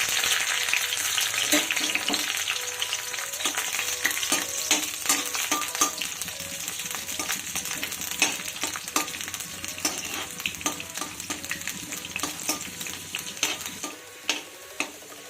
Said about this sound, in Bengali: এবার আমি রসুনের কোয়াগুলো দিয়ে দিচ্ছি